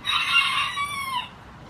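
A rooster crows once, loud and close, a drawn-out cock-a-doodle-doo that trails off, at a farm animal sanctuary.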